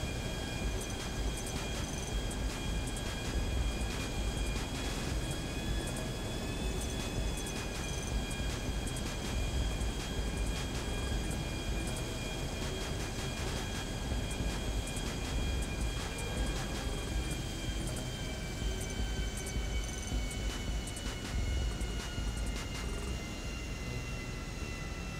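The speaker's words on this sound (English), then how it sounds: "trying to get the length of the runway to line up my plane, the runway and land" Airplane landing on a runway in GTA 5, a continuous moderate engine roar with steady whining tones and a broad rumble that holds evenly throughout, with no talk.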